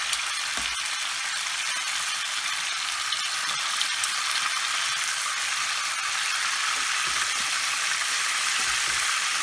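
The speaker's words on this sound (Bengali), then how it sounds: "আর আমি এই তেলের মধ্যেই বাকি মশলা দিয়ে মাছটা রান্না করব" Carp fish fries with spices in oil on high heat, producing a loud, continuous crackling sizzle with occasional stirring knocks, close up and without talk.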